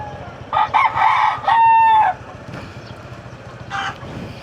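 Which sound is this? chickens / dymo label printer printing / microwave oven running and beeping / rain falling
chickens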